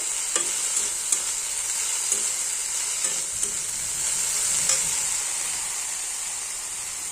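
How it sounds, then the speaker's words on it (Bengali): Steady bright sizzle of fish and potatoes frying in a pan, with occasional soft scraping clicks from stirring, continuous throughout. "মাছগুলো ভাজা ভাজা হয়ে গেছে।"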